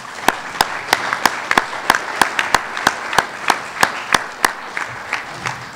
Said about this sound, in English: I think you should give them a nice round of applause right now.